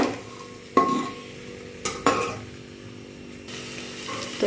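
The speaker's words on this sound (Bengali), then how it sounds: "এখন ডালটাও এখন 3-4 মিনিটের মতন একটু কষিয়ে নেব মশলার সঙ্গে" Lentils being stir-fried with spices in a pan for a Bengali tiffin recipe: a steady low sizzle runs throughout, broken by a few sharp scraping stirs of the spoon against the pan.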